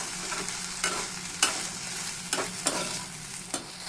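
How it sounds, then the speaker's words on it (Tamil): Okra (ladies finger) is stir-fried in a pan, giving a steady sizzle broken by sharp spatula knocks and scrapes every second or so. It is close and moderately loud, with no talking. "வெண்டைக்காய் அந்த ஒரு பிசுபிசுப்பு தன்மை போகிற வரைக்கும் நம்ம வதக்கணும்"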